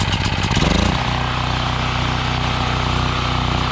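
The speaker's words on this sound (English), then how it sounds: "All right guys, we just installed the carburetor right back, and it's gonna be a first start." A portable generator, just fitted with a freshly cleaned carburetor after a year of sitting, cranks and catches, then settles into a loud, steady close-up engine drone that runs alone throughout.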